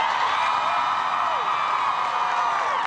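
A huge outdoor crowd at the March For Our Lives rally in Washington, D.C. cheers and whoops in a dense, sustained roar with no breaks.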